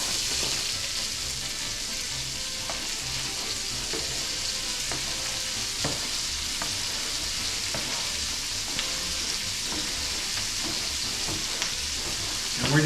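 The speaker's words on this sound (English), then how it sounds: "We're going to go ahead and put the onion in." Chopped onion frying in bacon fat for warm German potato salad sizzles in a dense, steady hiss with scattered small pops and crackles, close and unbroken throughout, with no talk.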